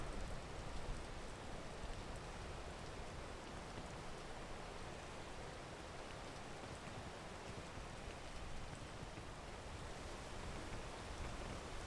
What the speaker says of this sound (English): while the rain is falling.